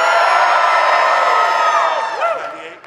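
A crowd of Houston Texans fans in a large audience cheering and whooping loudly together in one sustained roar that fades out after a couple of seconds.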